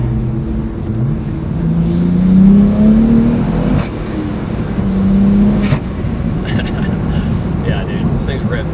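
Twin-turbo car driving and accelerating, with engine tone rising and falling in two pulls heard from inside the cabin, plus brief whooshing sounds; people talk over it.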